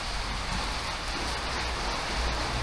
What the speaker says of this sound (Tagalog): Ang galing ng pagkakataon, napatak na po sa bubong